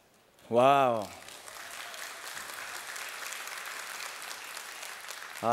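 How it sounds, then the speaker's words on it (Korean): A church congregation at a Korean worship service breaks into warm, moderate applause that holds steadily for several seconds, with a voice speaking just before and as it ends. "이렇게 또 박수를 쳐주시니까 다음 주에도 뭐 하나 준비해 보도록 하겠습니다"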